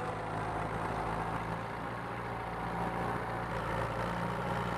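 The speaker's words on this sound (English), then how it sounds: "the tractor sound, if it's too loud" An old John Deere tractor in a farming video game idles with a steady low diesel drone, constant and unchanging throughout, close and even in level, with no voices.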